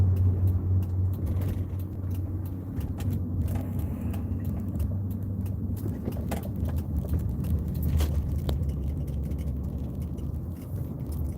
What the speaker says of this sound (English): I'm going to drive through this parking lot